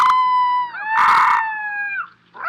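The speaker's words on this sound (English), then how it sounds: "captured video footage of a 4-week-old wolf pup howling on camera" A four-week-old wolf pup howls in long, high, wavering cries, one sustained howl that bends in pitch, then a rougher breathy burst and a rising yelp at the end, loud and close.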